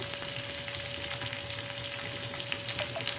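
Curry leaves and green chilli sizzling in oil for a quick besan dhokla tempering, a quiet, even crackle and hiss with small pops running steadily from start to finish.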